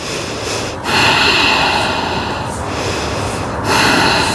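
Deep, forceful nasal breaths during a power yoga pose, three long inhale-exhale cycles close up with rushing air and no talk.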